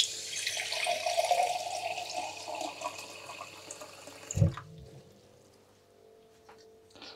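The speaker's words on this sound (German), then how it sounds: "In die kleine Schüssel brauchen wir jetzt 500 Milliliter Wasser." Water from a tap rushing into a small bowl, a steady splashing pour that ends with a sharp clunk, followed by faint drips and quiet room sound, no voices.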